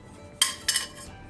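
A cake tin for a pineapple cake set down inside a hot preheated pressure cooker, two quick metallic clanks close by within a second, with no talk.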